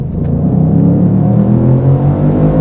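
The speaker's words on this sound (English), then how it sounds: "Second gear pull, ready?" A 2021 Ford Mustang Mach 1 and a Lexus RCF Track Edition, both V8s, pulling hard in second gear, giving a loud, continuous engine rumble with rising revs heard from inside, with no talking.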